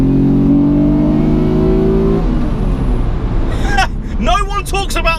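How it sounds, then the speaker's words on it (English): A Mitsubishi FTO engine holds a steady high rev, then drops away as the driver shifts down into second and blips the throttle, with sharp rising revs near the end and someone talking over it. "when you actually get up into the rev, you just go back down into second, blip it down."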